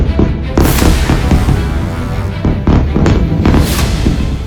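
Explosions from Israeli strikes on Beirut crackle and boom in rapid irregular bursts, loud and sharp like fireworks, with heavier thuds mixed among quicker pops.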